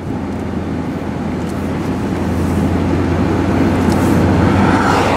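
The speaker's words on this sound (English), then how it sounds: "Wait for this car to go by." A steady, broad roar of a car passing nearby that swells slightly louder toward the end, with no voices.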